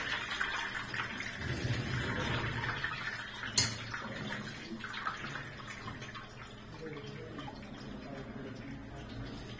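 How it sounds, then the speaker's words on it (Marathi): Water splashes and trickles steadily, poured from a vessel over cooked kunjir wild greens, with a brief clatter partway through and a faint room hum. "थंड पाणी वरून थोडं टाकायचं"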